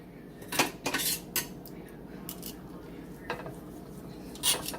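Cutlery scraping and clinking on a plate while slicing a crockpot roast chicken, cooked four hours on high; several sharp metallic scrapes and taps come in irregular bursts, close and moderately loud, with no talking.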